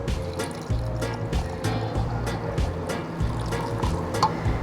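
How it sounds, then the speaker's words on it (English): Hot gin and tonic with rhubarb and elderflower is poured from a vessel into a heat-resistant glass, a close, steady liquid stream with a few soft clinks and thuds. "Pour that lovely thing in a glass."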